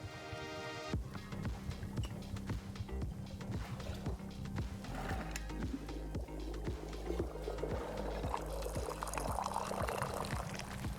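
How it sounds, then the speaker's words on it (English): Tea being poured in the cozy video game Wanderstop, a soft steady liquid pour under a rhythmic low throbbing musical pulse, with a brighter wash of sound building toward the end. "The perfect pour."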